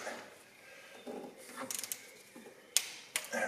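Ratchet wrench torquing bolts on a B18 engine water pump, heard as a quiet run of short mechanical clicks and ratcheting bursts, with a few sharper ticks near the end.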